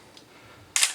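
Pentax P30 35mm film camera with a metal vertical-plane shutter, a single short bright mechanical burst of the film advance lever winding, loud and close after a near-silent lead-in.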